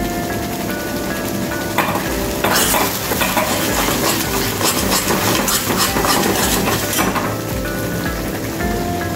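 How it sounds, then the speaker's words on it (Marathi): Spiced masala for a Maharashtrian Satara-style mutton curry sizzling loudly in hot oil while being stirred, with a continuous close frying hiss and scraping spoon strokes throughout. "आणि तो मसाला व्यवस्थित असा परतून घ्यायचा."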